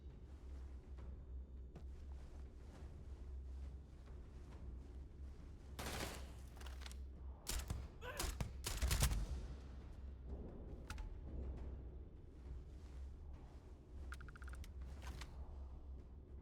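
Gunfire in the video game Starfield, with several sharp bursts of rapid shots clustered near the middle over a faint, quiet background, then sparse distant pops.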